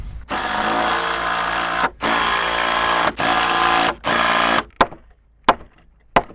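A power driver sinks 3-inch structural screws into LVL plies for a floor truss beam: a close, loud whine in four long bursts separated by short pauses, then a few brief blips as the screw seats.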